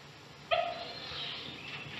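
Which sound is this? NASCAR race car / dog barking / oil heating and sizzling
dog barking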